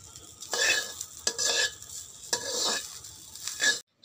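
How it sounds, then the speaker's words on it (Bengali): Eggs scrambled in a wok over a wood-fired stove, a loud close sizzle broken by repeated scraping stirs of the spatula against the metal, with no voices. "চলছে আমাদের কাঠের উনুনে কড়াইয়ের মধ্যে ডিম ভাজা।"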